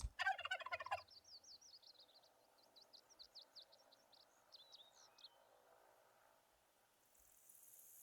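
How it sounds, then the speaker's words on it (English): A turkey mating call in theHunter: Call of the Wild: a quick burst of clucks opens, then a rapid series of gobbling yelps rolls on for several seconds, faint and somewhat distant over a quiet game background. "we're going to try to call in some turkeys. So you can switch between the crow call and the mating call. So we'll go with the mating call."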